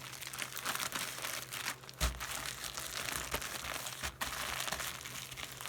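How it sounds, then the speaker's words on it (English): Bread dough being kneaded and squished inside a zip-top plastic bag with flour, giving a steady run of soft crinkling and crumpling plastic noises, close up and continuous, with no voices. "you're just going to kind of knead it in the bag and squish it around and get all the flour in there mixed up"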